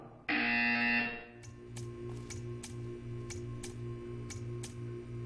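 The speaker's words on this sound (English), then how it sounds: "You will hear a buzzer." A harsh electronic buzzer in the video game Portal 2 blares for about a second, then gives way to steady regular ticking over a low hum.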